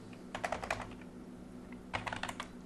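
Computer keyboard typing in two short bursts of rapid key presses, separated by a pause, over a low steady electrical hum while a Bangla-language browser automation tutorial is being set up.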